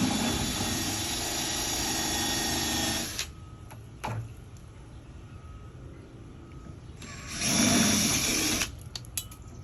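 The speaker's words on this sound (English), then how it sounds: "drill out the bracket." A power drill whines loudly while drilling out a metal bracket on a Flagstaff High Wall hybrid pop-up camper, in two bursts separated by a quieter pause with a few clicks.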